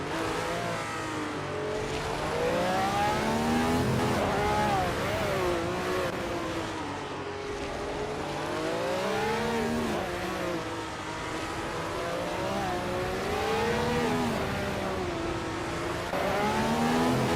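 A 1971 Ferrari 312 B2 racing car's engine screams in a racing video game, a continuous high-pitched roar rising and falling through gear changes and repeated revving, steady and loud throughout with no voices.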